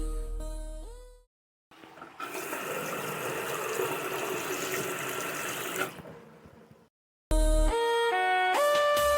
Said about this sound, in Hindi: वो आईने के सामने झुकता है और चेहरे पर पानी डालता है।